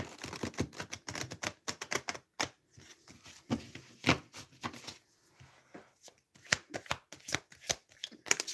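Tarot cards being shuffled: bursts of quick riffling flicks and sharp slaps, starting and stopping in short clusters with brief pauses between them, close and crisp, no talking.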